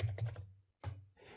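A few close, crisp keystrokes on a computer keyboard as a word goes into a search bar: a quick run of taps, a pause, then one more press.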